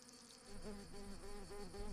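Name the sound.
worker wasps buzzing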